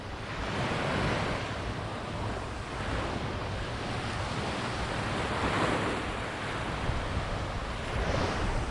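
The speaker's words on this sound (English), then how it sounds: "This is Cosy Beach." Waves breaking on Cosy Beach in a continuous loud surf wash, with swells rising and falling and wind buffeting the microphone close by.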